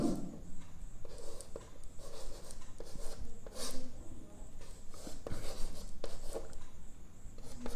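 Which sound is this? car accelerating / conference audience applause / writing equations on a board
writing equations on a board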